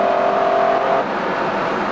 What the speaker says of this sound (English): It just goes on accelerating, accelerating and accelerating.